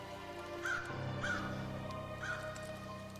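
Evil birds in the Farmer vs. Evil 2.0 VR game on Daydream VR give three harsh crow-like caws, evenly spaced over a steady layer of game background sound.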